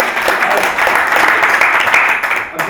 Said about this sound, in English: give yourselves a bit of a round of applause